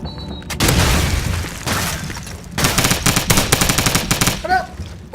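Rapid automatic bursts from a Skorpion submachine gun in Call of Duty 4, loud close fire in several stuttering volleys separated by short pauses, with a faint voice in the mix.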